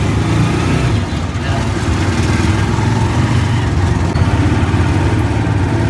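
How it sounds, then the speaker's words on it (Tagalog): A motorized tricycle engine runs steadily and loudly throughout while riding near rice terraces, a continuous low rumble close by with no break. "nakasakay na ako"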